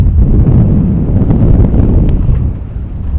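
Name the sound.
strong wind at sea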